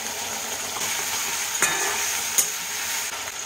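A paste of ground fennel and cumin sautés in hot oil for fennel-paste koi fish curry, with a steady, close sizzle broken by a couple of sharp stirring scrapes.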